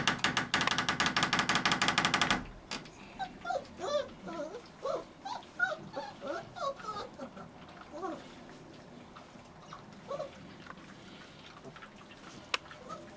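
Young Bully Kutta puppies whimper and squeal in short, high, overlapping cries while eating their first meal, close by and fairly quiet, after a brief burst of steady noise at the start.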